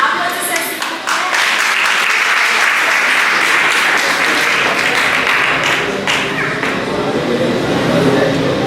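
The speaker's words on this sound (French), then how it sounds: "Applaudissez s'il vous plaît." Sustained applause from an audience at a vocational school graduation ceremony, a dense, loud wash of clapping that fills the whole stretch with steady intensity, with voices mixed in beneath.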